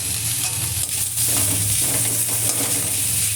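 Spice masala with turmeric, salt and chili powder frying in a pan, giving a steady, loud, continuous sizzle with low stirring scrapes throughout and no voices.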